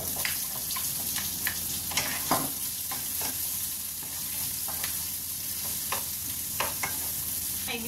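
Onions sauté in a little oil in a pan for a baby octopus dish, a steady close sizzle broken by frequent stirring scrapes and clicks, with no one speaking.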